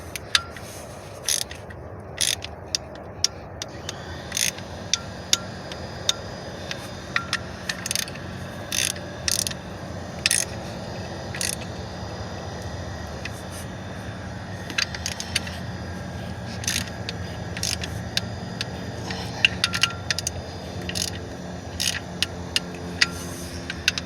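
A hand ratchet tightening wheel or sensor bolts on a 2004 Kia Sorento, repeated sharp clicking strokes in irregular bursts over a steady background hum, close by.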